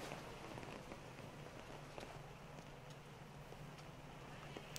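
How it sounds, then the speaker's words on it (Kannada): Heavy monsoon rain pours steadily in coastal Dakshina Kannada, where roads are flooded, a dense continuous hiss with scattered drop impacts at a constant level throughout, no voices. "ವಿಪರೀತ ಪ್ರಮಾಣದಲ್ಲಿ ಮಳೆ."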